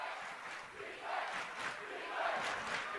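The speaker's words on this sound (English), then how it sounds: "Crowd gets loud." Crowd noise swelling at a boys high school basketball game between Mountain Ridge and Riverton in the final minute of a close game, a roaring mass of voices that rises in waves and grows louder toward the end.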